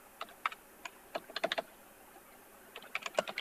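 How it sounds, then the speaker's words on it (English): Keys clicking on a computer keyboard while a business name is entered into a search field, two quick bursts of keystrokes separated by a pause, close and fairly quiet. "we're going to type in Warren"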